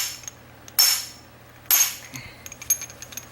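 A hammer strikes a socket fitted over a locking wheel nut: two loud, sharp metallic impacts about a second apart, each ringing briefly, followed by a few lighter clinks.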